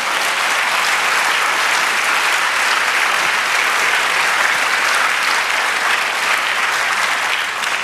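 A church congregation claps together in a long, dense burst of applause for the Lord, steady and loud throughout without any voices on top.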